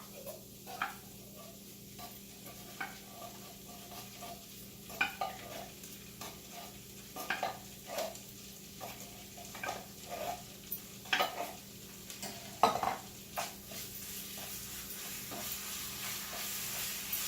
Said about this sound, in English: Have one of your kids help you mixing this up.